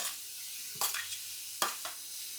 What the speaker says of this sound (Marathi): आपण आधी कांदा भाजून घेऊया